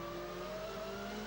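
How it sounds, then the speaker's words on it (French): A WTCC touring car engine at Monza holds a steady, strained high-revving drone with a slowly rising pitch, loud and continuous with no talk. "quand on écoute les bruits du moteur"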